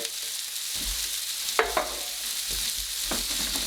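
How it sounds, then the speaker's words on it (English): Soft, steady sizzle of onions frying gently in vegetable oil in a pan, with a few sharp clicks and scrapes from a utensil partway through. "We're going to fry our onions gently"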